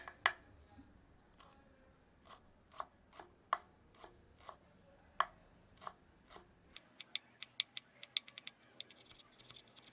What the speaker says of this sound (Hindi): इन्हें महीन काट लेते हैं।